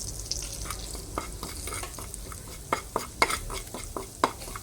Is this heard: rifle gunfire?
no